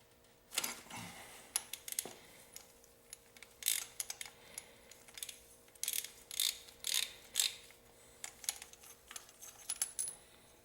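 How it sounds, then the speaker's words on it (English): A ratchet wrench loosens and backs out a spark plug from a Honda CB450 motorcycle engine, producing close, repeated bursts of metallic clicking in a steady rhythm, with no talking. "here's the spark plug coming out"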